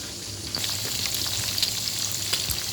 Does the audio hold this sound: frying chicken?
yes